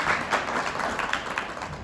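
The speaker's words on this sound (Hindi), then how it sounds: "जोरदार आप अपने लिए ताली बजाइएगा" A short burst of applause from a gathering of organic farmers clapping for themselves, a brief moderately loud patter of many hands.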